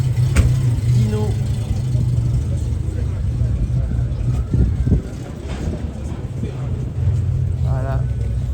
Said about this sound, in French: Dino 308 GT4.